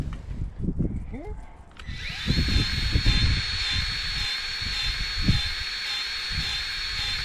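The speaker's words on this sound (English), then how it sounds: "let's inject some grease in here" Grease gun pumping grease into a demolition hammer fitted to a mini excavator, heard as a steady close hiss with soft clicks and handling knocks in a workshop setting.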